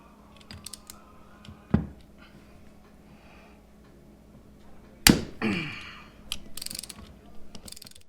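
Tools work the bolts on a third-generation Toyota 4Runner front clamshell, with scattered metallic clicks and ratcheting, two sharp clanks and a rattling burst, then lighter tapping at close range.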